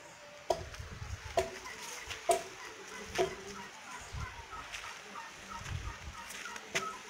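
Farmyard chickens cluck and peck while eating watermelon, with short sharp clucks repeating every second or so over a busy outdoor background; a person talks quietly nearby.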